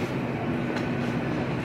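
Train rumbling past at a station platform, a loud, steady roar of rolling carriages with a faint metallic squeal, heard close and alone.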